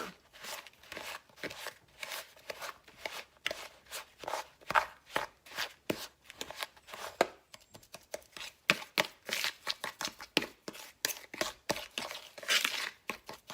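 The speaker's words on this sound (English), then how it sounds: "now we're just going to take our fork and just sort of mash in that softened butter to all that brown sugar" A fork mashes softened butter into brown sugar for a cinnamon roll cake, making a rapid, uneven series of close scraping and clicking strokes against the bowl that continues without pause.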